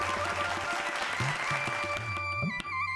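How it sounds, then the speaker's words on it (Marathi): Applause from a kirtan event audience, a continuous bed of clapping mixed with tonal musical or harmonium-like drones and low rhythmic accents, fairly steady across the stretch. "टाळ्या वाजवा बरं त्यांच्याकरता."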